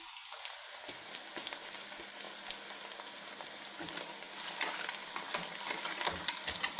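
Onions and ginger garlic paste fry in ghee, starting quietly and then sizzling steadily with frequent crackles, pops and scraping stirs, close and continuous.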